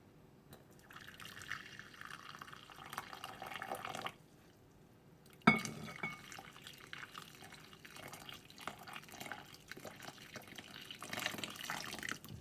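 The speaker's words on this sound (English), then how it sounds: "And then we're gonna add our boiling water to our salts," Boiling water is poured into a bowl of semolina and salt, giving a faint splashing, trickling stream with a brief pause and some drips and clinks, no voices.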